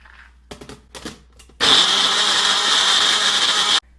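Short clattering knocks and handling noises come first, then a blender roars loud and close for about two seconds while blending banana nut porridge before cutting off abruptly.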